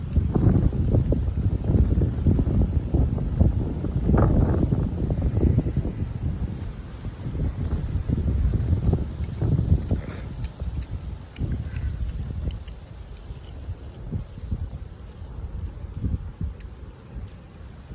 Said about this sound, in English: We're gonna let the wind settle.